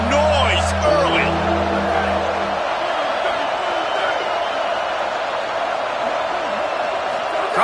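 Stadium crowd in a college football video game, a dense continuous roar of cheering fans with a low engine-like drone and bright whistles at the start, loud and steady throughout.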